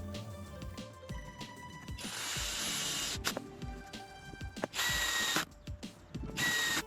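A power drill bores into pine board while building a folding wooden desk, giving uneven whirring bursts with ratcheting mechanical clicks and pauses between passes.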